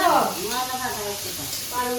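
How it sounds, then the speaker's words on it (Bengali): Soft frying sizzle of spices in a pan for fried puli pitha runs beneath a person talking close by, the hiss steady and partly masked by the voice. "মশলা ভাজা হচ্ছে"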